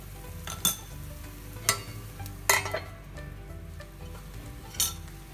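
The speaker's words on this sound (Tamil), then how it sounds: "இப்போ கொஞ்சம் இதுக்கு ஆயில் ஊற்றிக்கலாம்." Oil sizzles gently on kuzhi paniyaram frying in a paniyaram pan, a quiet continuous crackle broken by four or five sharp metallic clinks of a utensil against the pan.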